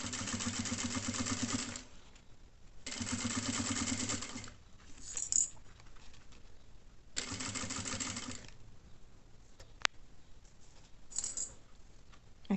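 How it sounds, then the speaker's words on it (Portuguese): Domestic sewing machine stitching fabric with bias binding in bursts of steady whirring, each lasting about two seconds with pauses between, close and moderately loud, with small clicks in the gaps. "Eu venho aqui, continuo costurando da mesma forma, até chegar na outra pontinha."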